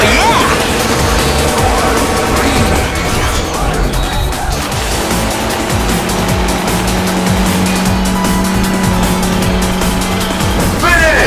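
Cars racing in the video game Sonic & All-Stars Racing Transformed on a coastal course, loud continuous engine whine with tire squeals and game music underneath, ending in a brief fanfare.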